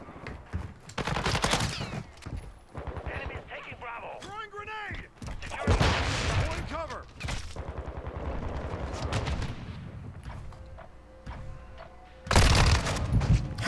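Rapid bursts of automatic gunfire crack through a Call of Duty: Modern Warfare II multiplayer match, loud and clustered in several volleys, mixed with game effects and a talking player.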